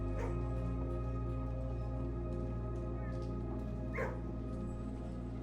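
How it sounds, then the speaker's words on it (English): Puppies barking and yipping in the video game Blue Prince, a steady background of soft, distant-sounding yaps and whimpers over a constant low hum, with a slightly stronger bark near the end. "You can still hear the puppies."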